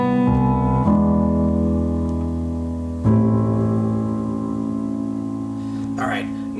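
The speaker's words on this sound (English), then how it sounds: "so then that final variation of the intro chord progression is going to sound like this" A guitar plays the final variation of the intro chord progression of a song, with several chord changes ringing close and sustained. A brief sound near the end may be a short bit of voice.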